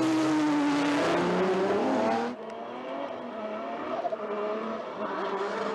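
A drift car at a 2022 Formula Drift Japan battle run revs hard with a rising engine whine, then the note drops abruptly as it eases off and continues as a steady, softer engine drone with faint tire noise.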